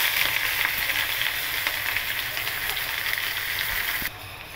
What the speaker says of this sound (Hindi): इसको कुछ देर तक इसको तेल में फ्राई होने दे रही हूँ